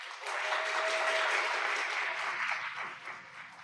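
A lecture audience gives a burst of applause of even intensity that fades toward the end.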